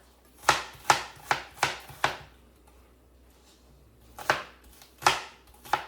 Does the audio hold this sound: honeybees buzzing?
no